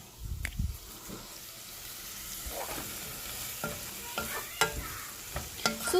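Onions frying in a pan for sausage and potato soup, a soft sizzle under intermittent stirring scrapes and knocks, close and fairly quiet, with a louder thump near the start.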